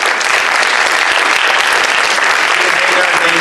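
Loud, dense audience applause for advisory board volunteers at a bail reform presentation, a continuous close wash of many hands clapping that stays even from start to finish.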